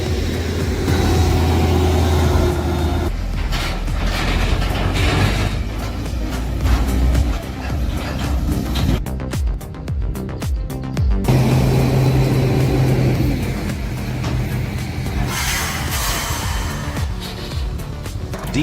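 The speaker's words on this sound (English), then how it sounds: "expertly revving the engine and powering his way up the near-vertical ascent" A heavy timber truck loaded with logs labors up a steep, near-vertical mountain track, its engine droning and revving loudly and continuously with rough mechanical grinding throughout.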